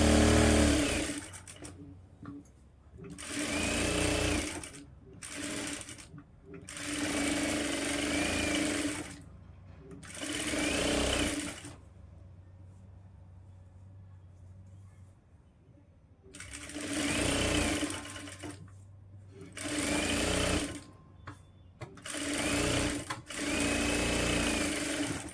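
A sewing machine stitches the lining of a blouse in several bursts of rapid, close whirring, separated by quiet pauses, with no one speaking over it.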